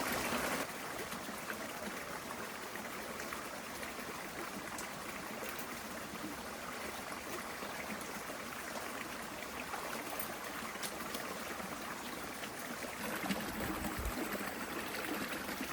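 Creek water streams steadily near an off-grid water inlet, where the creek joins a river, as a continuous close rushing wash with no voices.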